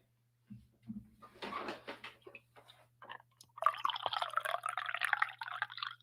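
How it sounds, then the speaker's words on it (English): Coffee pours into a cup with a few drips and clinks first, then a steady trickling stream building over several seconds, close and clear against a low electrical hum. "hear me pour my coffee in my cup"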